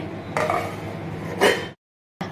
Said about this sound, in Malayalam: ഇനി ഇതൊന്ന് ഇളക്കി ഇതിനകത്ത് ഈ വെള്ളത്തിനകത്ത് ഇതിനെ ഒന്ന് സെറ്റ് ചെയ്ത് വെക്കുക